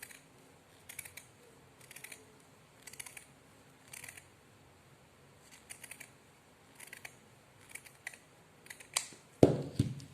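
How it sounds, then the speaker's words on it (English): Shear scissors snip along a fabric edge in short, crisp clusters of cuts spaced about a second apart, quiet and close, followed by a louder clatter at the end. "I will use the shear scissors to cut this edge."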